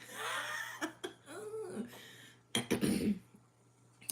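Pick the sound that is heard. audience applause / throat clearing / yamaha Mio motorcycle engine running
throat clearing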